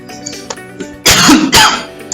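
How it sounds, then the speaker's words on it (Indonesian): A man coughs and clears his throat, a loud, close burst of two rough hacks after a quieter lead-in, with no speech around them. "Maaf, saya agak batuk."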